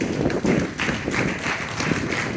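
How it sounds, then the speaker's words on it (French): A church congregation claps together in a dense, steady wash of applause, close and fairly loud, running without pause for a couple of seconds. "On peut applaudir le Seigneur pour cette nuance"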